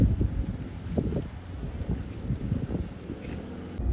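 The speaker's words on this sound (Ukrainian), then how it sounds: "Я тут щось намагалась розповісти вам, але через цей вітер нічого не було чутно." Strong wind at a sled dog race in Alaska, battering the microphone with a loud, continuous low roar that rises and falls in gusts for the whole stretch.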